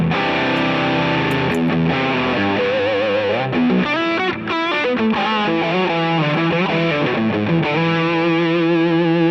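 Electric guitar played through a Lil' Rat distortion pedal set for crunchy, mid-heavy distortion, with sustained chords and then melodic single-note lines ringing loud and close, no voices.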